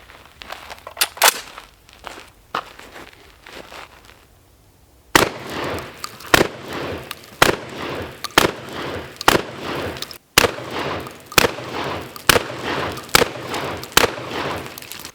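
A shotgun fired repeatedly outdoors, about a dozen sharp loud blasts spaced roughly a second apart after a quieter stretch with a few clicks and handling sounds.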